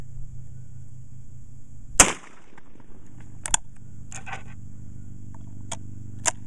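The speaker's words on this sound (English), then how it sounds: "as you can see, it does shoot slugs without any problem." A Rossi .410 shotgun fires a slug once, a single sharp outdoor report over a low steady hum, followed by a few faint clicks and handling knocks.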